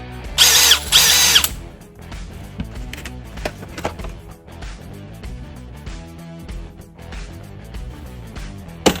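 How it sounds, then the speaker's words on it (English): Power driver sinking screws with Milwaukee Shockwave impact-duty alloy steel bits, a loud whirring burst at the start followed by a series of shorter bursts and mechanical clicks, close up with no talking. "let's put these bits to the test and do some screwing"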